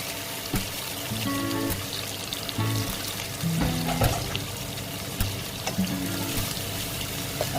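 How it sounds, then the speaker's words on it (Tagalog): Broth poured into a pan of chicken feet and gizzard cooking with garlic, a steady splashing pour over continuous sizzling with a few brief louder surges. "Lagyan natin ng kunting sabaw."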